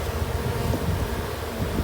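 Honey bees buzz steadily around an open hive while a hive tool scrapes comb, a dense low drone holding at an even level throughout with no voices.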